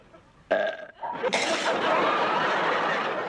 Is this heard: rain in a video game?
no